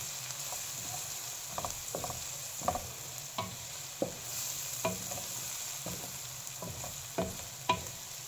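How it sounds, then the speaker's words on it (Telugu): Leaves frying in a pan for fish curry: a soft continuous sizzle with repeated scraping clicks of a spatula stirring at an uneven rhythm, close and fairly quiet. "తిరగబాతలో బాగా ఫ్రై చేయాలి."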